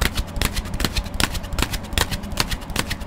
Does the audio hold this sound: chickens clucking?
no